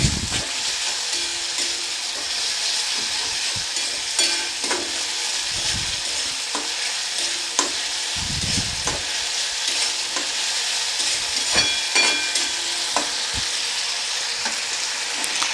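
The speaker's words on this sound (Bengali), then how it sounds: "দিয়ে এটা আবারও আমি ভালো করে নেড়ে নেব" Fish kalia of aar fish with tomato paste being stirred in a frying pan: steady sizzling and frying hiss throughout, with repeated scraping strokes of a spatula against the pan, close and fairly loud, no talking.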